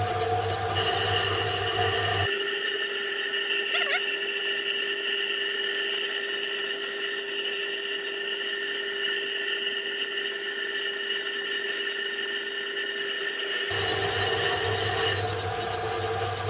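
A honed lathe tool cuts a 6-inch pulley on a homebuilt Gingery machine, giving a steady, close, fairly loud whine and hiss that holds evenly for about eleven seconds before the cut stops, with motor hum around it.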